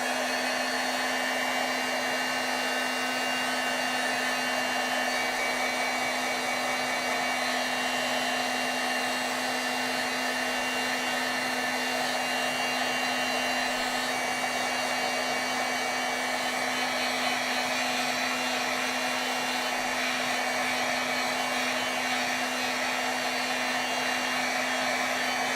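A heat tool blows a steady, loud whirring hum while heat-setting embossing powder on stamped art, running continuously without a break and with no talking over it.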